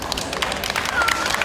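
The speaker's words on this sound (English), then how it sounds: "Only the cosplayers are clapping" Scattered clapping from costumed cosplayers in a convention crowd, light and uneven, mixed with crowd murmur and some talking.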